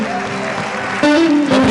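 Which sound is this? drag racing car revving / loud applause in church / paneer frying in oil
loud applause in church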